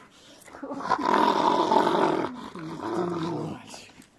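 An angry dog growls deeply and steadily at close range in a long, rumbling snarl that eases briefly before a second growl, with faint bits of a voice around it.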